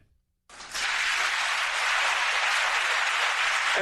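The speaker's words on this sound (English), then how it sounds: "listen to the Democrats in the audience cheering Bernie Sanders" An audience cheering and applauding Bernie Sanders: after a brief silence, a dense burst of clapping starts suddenly and continues at a steady, loud level to the end.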